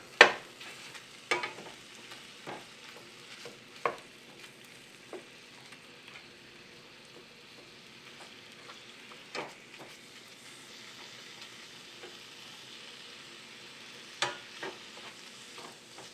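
Ground beef browns in a pan with a quiet, continuous sizzle and hiss, broken by occasional sharp scrapes and taps as a spatula breaks up the meat.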